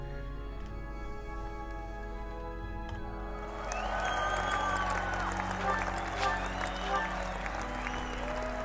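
Applause sound effect played over a Fire Emblem Three Houses game stream, starting about midway and swelling into a steady, fairly loud patter over tonal game audio.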